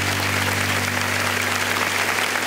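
Church congregation applauding during a worship service, a loud, continuous roar of clapping hands held at an even level throughout, with a low steady hum underneath.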